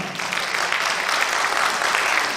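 An audience at an award ceremony applauds steadily, a dense and even wash of clapping from many hands with no pauses.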